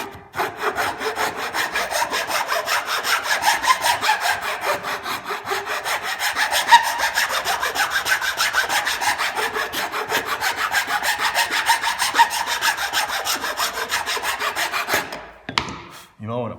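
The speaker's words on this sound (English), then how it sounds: "I'm going to use my half round, and I'm just going to go forward like that" A half-round file rasps forward along a groove in a wooden spatula, making a steady, continuous scraping that is close and fairly loud for about fifteen seconds before it stops with a few brief knocks.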